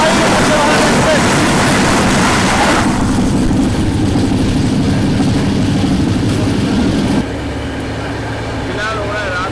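The Grand Trunk Express rumbles along near Mathura at night, with a loud rushing roar that drops abruptly to a quieter steady rolling hum partway through, with faint voices in the background.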